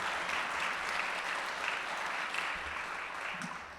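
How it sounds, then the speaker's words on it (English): Audience applause fills a Rotary Club of Cincinnati meeting room, a steady dense wash of clapping that holds evenly for several seconds and eases slightly at the end, with no talking over it. "So I think that's a round of applause."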